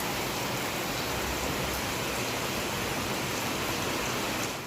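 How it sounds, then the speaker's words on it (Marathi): Heavy rain pours down in a dense, unbroken roar close by, loud and steady throughout with no voices. "बघू आता पावसाचा जोर ओसरल्याशिवाय आम्हाला घरी जाता नाही येणार."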